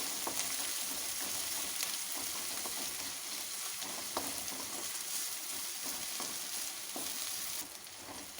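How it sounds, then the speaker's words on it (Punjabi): Onions frying in a pan for a vegetable vermicelli dish: a steady, close hiss of sizzling oil with occasional stirring scrapes and crackles, continuous throughout without talking. "ਸਿਰਫ 2 ਮਿੰਟ ਲਈ ਹਲਕਾ ਗੁਲਾਬੀ ਜਿਹਾ ਰੰਗ ਹੋਣ ਤੱਕ ਅਸੀਂ ਪਿਆਜ਼ ਭੁੰਨਾਂਗੇ"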